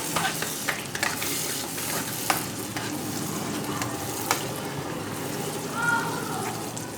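Lemon juice stirred into masala in a pan, with close spoon scrapes and taps over a soft ongoing sizzle, a few sharper knocks scattered throughout and faint background voices.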